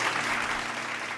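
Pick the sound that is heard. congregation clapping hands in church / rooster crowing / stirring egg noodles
congregation clapping hands in church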